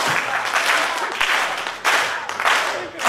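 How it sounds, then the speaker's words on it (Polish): Crowd applause at a charity finale event in Strzelce Opolskie, dense continuous clapping from many hands, loud and close, swelling in waves with a short dip before rising again. "Ja proszę, żeby przy każdym rzucaniu były takie brawa"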